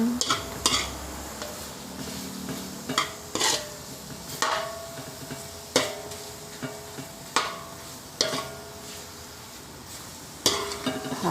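Arroz valenciana stirred in a pan, with repeated scraping strokes of a utensil and clinks against metal at an uneven rhythm, over a light background sizzle; close and moderately loud.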